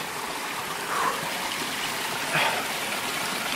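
A mountain stream runs in a steady, close rushing trickle while water is collected from it, with two brief splashy swells standing out above the continuous flow.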